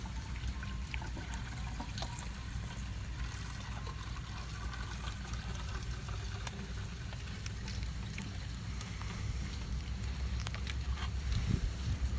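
Pool salt cell cleaning solution poured steadily into a container, a continuous low splashing and trickling that holds the same level throughout, with no voices.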